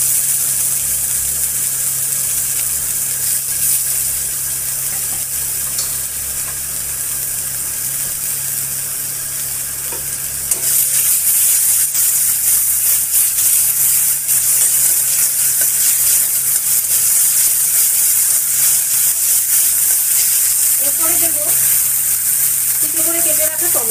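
Onion and garlic paste dropped into hot oil after tempering spices, a steady broad sizzle that grows louder midway and continues evenly throughout, close and unbroken.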